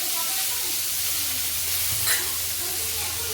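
Potatoes go into a frying pan of hot oil with cumin and bay leaf after fried prawns, giving a steady close broadband sizzle with a brief louder burst partway through, and no talk over it.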